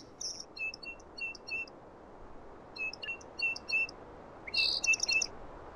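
Sparrows chirp in a Unity game scene's ambient soundscape: short bursts of bright, high tweets in clustered phrases, with pauses between, over a soft hiss, fairly close and clear with no talking.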